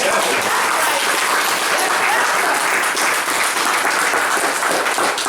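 Steady, loud applause from a crowd, dense clapping that fills the whole stretch with a faint voice underneath.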